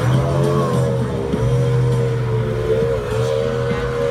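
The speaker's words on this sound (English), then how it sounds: "Now Jeremy just showed us the speed and the horsepower of that 300 horsepower Mercury outboard engine." A 300 horsepower Mercury outboard engine drives a speedboat in a water ski show, its steady loud drone carrying on throughout with slight pitch swells as the boat passes near.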